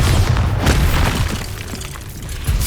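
A Bombarda explosion spell from Hogwarts Legacy goes off as a loud, close, rumbling boom with crackling debris that fades over a couple of seconds.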